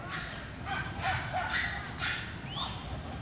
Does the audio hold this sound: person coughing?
no